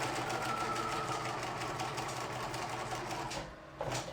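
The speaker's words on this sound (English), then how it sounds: "So I'm going to back stitch a little bit." A sewing machine back stitches a fabric face mask, a fast, steady rattling whir close by that runs without a break before a short pause near the end.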